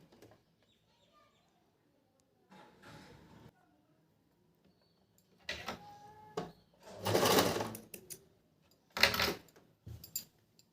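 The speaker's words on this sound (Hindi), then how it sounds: "गले की पट्टी पे हमने सिलाई लगा लिया है।" A sewing machine stitches the neckband of a collared suit in several short, separate bursts of fast mechanical whirring, with a voice speaking faintly between them.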